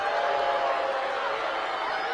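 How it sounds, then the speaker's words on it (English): A large crowd in a big venue booing the First Lady Melania Trump after her introduction makes a dense, sustained, loud roar of voices that holds steady throughout with no distinct individual calls. "Yeah, that is mostly booing."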